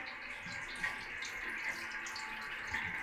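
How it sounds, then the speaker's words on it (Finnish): Water runs steadily from a tap in a home room with old two-panel radiators, a continuous even hiss without pauses and no talk. "Vesi juoksee"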